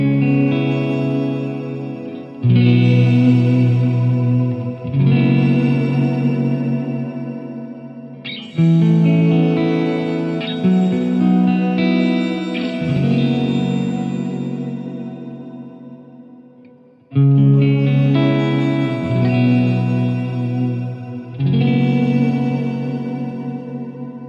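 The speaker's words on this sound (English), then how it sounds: "the Octave Reverb gives so much depth and flavour to your tone" A guitar plays big, open strummed chords through the Octave Reverb effect on an HX Stomp, each chord swelling into a lush, shimmering tail with a higher octave layer before the next strum, with no talking.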